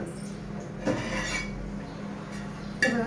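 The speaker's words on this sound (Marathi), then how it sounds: "तर मी तवा ठेवेल आणि तव्यावर ठेवेल." A thick iron tava griddle is set down on a kitchen stove, giving two short metallic clanks about two seconds apart over a low steady background.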